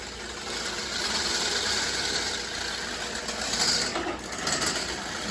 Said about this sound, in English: It's easier to do this in a stand mixer, but I'm using the hand mixer for now